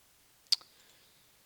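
A single computer mouse click, crisp and close, then a faint second tick, in an otherwise quiet room with no talking.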